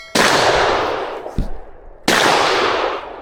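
Two loud, sharp shotgun blasts firing slug rounds at a fox during a hunt, about two seconds apart, each booming and then fading with a long outdoor echo.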